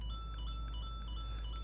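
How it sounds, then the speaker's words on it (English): A Switch 2 Pro Controller's HD Rumble 2 motors vibrate to play a melody: thin, beep-like tones step up and down in a quick tune, faint and steady over a low hum, with no voice. "That is the sound of the motor vibrating."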